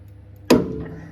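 Puller breaking a Loctite 638 retaining-compound bond on a rod held in V-blocks with a C-clamp, a single sharp loud crack that decays quickly after a moment of quiet.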